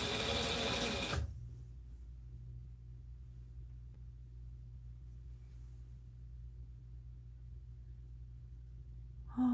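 A home sewing machine stitches in a quick, loud burst during a live sew-along, then stops after about a second, leaving a low steady hum in the quiet room.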